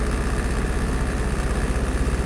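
Mazda MX-5 engine idling erratically around 2000 RPM once warmed up, a steady close, loud broadband engine drone with a slightly uneven low rumble and no talk.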